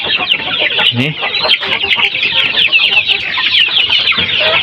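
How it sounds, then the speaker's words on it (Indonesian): Free-range village chickens cluck steadily at feeding time on an afternoon farm, a dense, busy chorus of overlapping clucks and calls from a nearby flock that holds the same level throughout. "mau kasih makan ayam-ayam kita"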